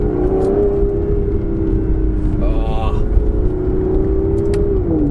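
Aston Martin Vanquish with a 177-derived exhaust system, a steady engine drone holding pitch, then rising and falling through a gear change, with crackle audible from the exhaust.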